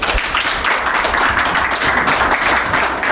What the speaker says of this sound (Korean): 박수 모시겠습니다.